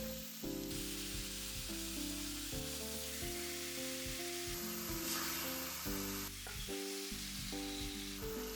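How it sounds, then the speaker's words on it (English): Pork belly for ginger pork sizzling in a well-heated pan over high heat, a loud continuous hiss with a steady low hum underneath, no talking. "Once the pan is well heated, I add the pork belly."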